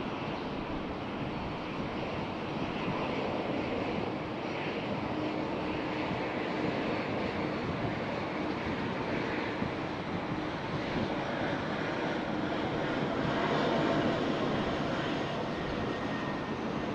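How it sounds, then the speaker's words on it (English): Qantas Airbus A330-200 arriving at Sydney from Bengaluru, a faint distant steady jet-engine rumble with some wind, no talk heard. "Qantas 68, the A332 coming in from Bengaluru, and enjoy this one"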